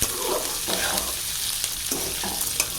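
Garlic and chopped onion fry in a pan for a vallarai keerai thuvaiyal, a loud close sizzle punctuated by repeated scraping stirs of a spoon against the pan, with no speech.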